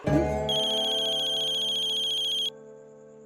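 A phone ringtone rings loudly and steadily as a bright electronic tone that holds for about two and a half seconds, then drops to a softer sustained ring that fades out, with no voices over it.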